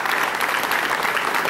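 Audience applause at a civic ceremony in Papantla as town officials are introduced, a brief, dense and steady clapping from a crowd with no speech over it.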